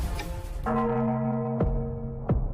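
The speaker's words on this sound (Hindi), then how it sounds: "5वीं घंटी बज चुकी है।" Large bell in a fantasy kingdom setting rings out with three loud, resonant strikes, each leaving a long humming decay that overlaps the next, with no talking.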